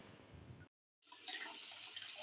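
Water splashes steadily into a bowl of sifted gram flour for kadhi batter, a continuous close pour that stops for a moment and then resumes more brightly.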